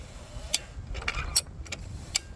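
Ratcheting star picket puller cranked one-handed while pulling steel fence posts, giving sparse, irregular metallic clicks and ticks, fairly quiet against a low outdoor rumble.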